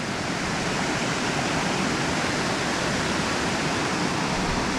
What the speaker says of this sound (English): it drops down 6 to 8 feet first to the top ridge there, and then it drops down over the waterfall's edge